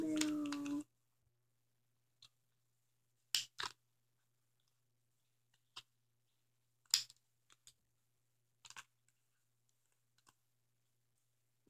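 Scissors snip through folded paper for a snowflake in a quiet room: a brief rustle at the start, then a few sparse, soft cutting clicks spaced a second or two apart.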